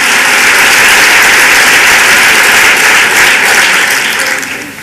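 Audience applause at a political talk on women in politics, a dense, steady roar of many hands clapping for about five seconds, loud and sustained before tapering slightly at the end.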